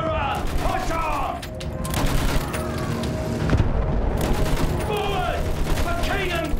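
Battlefield 1 World War I trench combat with dense, continuous machine gun fire and booming explosions, loud and chaotic, with shouted voices over the battle.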